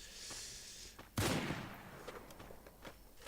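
SKS rifle gunfire in a mobile battle-royale esports match, one loud sharp shot followed by a string of fainter, more distant shots with no voices.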